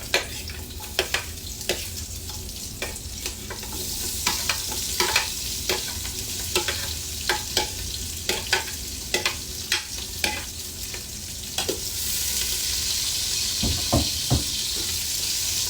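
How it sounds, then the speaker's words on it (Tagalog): Onion sautés in a hot pan with a steady sizzle, punctuated by frequent sharp clicks of a utensil stirring and scraping, with a brief watery splash near the end. "Una natin igigisa is yung sibuyas."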